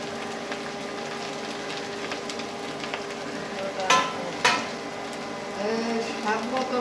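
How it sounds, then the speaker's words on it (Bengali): Mushrooms sizzle steadily in a pan with chilli and onion that have already browned, a continuous frying hiss broken by a couple of sharp spoon-and-pan clatters near the middle. "এখন এই মাশরুমগুলো দিয়ে দিলাম। মাশরুমগুলো একটু ভেজে নিতে হবে।"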